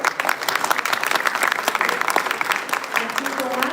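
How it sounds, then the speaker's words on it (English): Audience applause in an auditorium at an innovation and leadership conference, a lively, sustained burst of many hands clapping close by with some voices mixed in toward the end. "I request the audience to please give a huge round of applause here."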